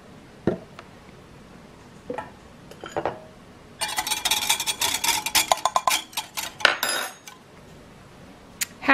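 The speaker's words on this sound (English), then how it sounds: "is stir in our coconut extract and our shredded coconut" Spoon or whisk scraping and clinking against a bowl while stirring coconut extract and shredded coconut into batter, a burst of rapid metallic knocks after a few sparse taps, close and fairly loud with no talk.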